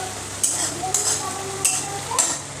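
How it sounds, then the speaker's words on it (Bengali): Spice paste fries in a pan for crab curry, a steady close sizzle broken by four sharp metallic scrapes or clinks of a spoon against the pan at regular intervals. "কত সুন্দর করে মশলাটাকে আমি ফ্রাই করছি"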